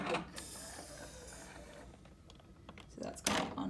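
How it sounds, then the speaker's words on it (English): A printer's ink cover is unlatched and opened, giving a string of close, light plastic clicks and rattles, then a louder clack and scrape near the end, over a low steady machine hum. "we just want to open the ink cover"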